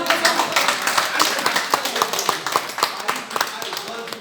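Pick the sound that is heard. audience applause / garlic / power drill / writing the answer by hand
audience applause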